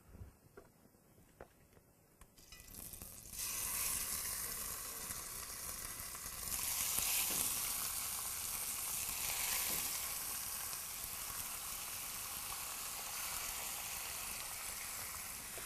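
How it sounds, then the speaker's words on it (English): Marinated pork neck fillet, coated in olive oil, garlic, salt, pepper and lime leaves, hits a hot dry pan and bursts into a loud continuous sizzle that stays strong throughout. "the pork for roasting, the neck fillet that's been marinating in olive oil, garlic, salt, pepper and the lime leaves, and we're going to cook it"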